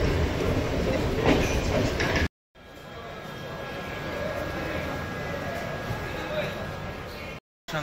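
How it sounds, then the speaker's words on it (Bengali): The Saraighat Express rolls into Bolpur Shantiniketan station with a loud, continuous rumble and rattle of wheels and carriages, broken by two short gaps, as someone talks over the train noise. "ট্রেন ঢুকলো বোলপুর শান্তিনিকেতন"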